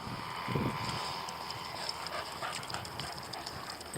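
A dog pants and moves about nearby outdoors, with a soft hiss of wet weather in the background.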